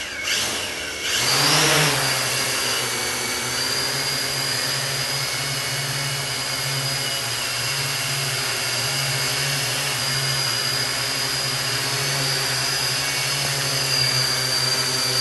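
A Mikrokopter XY8 coaxial quadcopter spins up and flies, its motors making a steady whining drone with a constant hum. The sound is loud and continuous with no talk over it.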